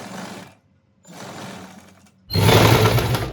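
Bursts of an electric sewing machine stitch a sleeve onto a boat-neck suit: two short runs with pauses between, then a louder, faster stretch of rapid mechanical chatter, close and alone.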